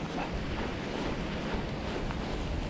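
Strong wind buffeting the microphone during a mountain bike ride in North Wales, a steady loud roaring rush filling the sound with no breaks and no talk.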